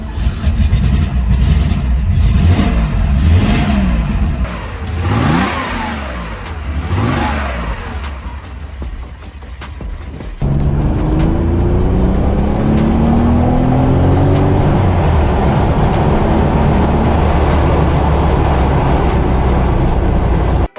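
Porsche 911 S Targa 2.4 from 1972 with a 190-horsepower 2.4-liter flat-six, in Need for Speed: Porsche Unleashed, revs loudly through rising gear sweeps, then settles into a steady, sustained engine drone with faint background noise.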